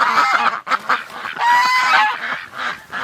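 Ducks and geese at a sunny wintering pond honk and quack repeatedly in a loud, close, overlapping chorus.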